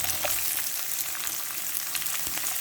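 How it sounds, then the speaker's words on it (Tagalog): About a cup of chopped onion goes into a hot pan for spicy bopis, setting off a loud, steady, close frying sizzle that holds without pause and without voices. "Then, we're gonna add in our chopped onion."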